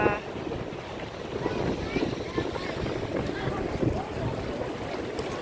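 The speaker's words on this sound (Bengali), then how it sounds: "যত ট্রলার সব এইখানে এসেই থামতেছে" A fishing trawler chugs past at a fish landing on the Digha river mouth, its engine rumbling low and steady under wind buffeting the microphone and lapping water.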